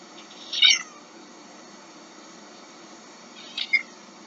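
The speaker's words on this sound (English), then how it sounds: "Meowing, so adorable." A cat gives two short, fairly faint meows a few seconds apart over a quiet, hissy background; no one speaks.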